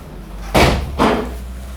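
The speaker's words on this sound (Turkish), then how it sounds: "Aç kızın kapıyı." A door is opened and then shut, giving two loud, close thuds about half a second apart over a low background hum.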